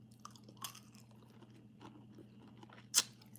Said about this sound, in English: when they come out the freezer, they do have a hard crunch